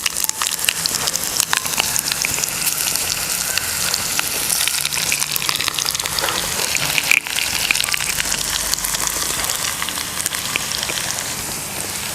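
Vegetables and mustard seeds frying in hot oil for a Kerala veg thoran give a steady, dense sizzle and crackle throughout, loud and close with scattered sharp pops and no talking.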